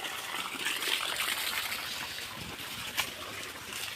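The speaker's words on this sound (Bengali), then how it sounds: "এই যে টিউবওয়েলটা এখন ছাড়তেছি, বাইরের দিকে লাইন দিয়ে দিলাম।" Water from a tubewell gushes out through a line in a soft, steady, continuous hiss and splash, with a brief brighter splash near the end and no talking.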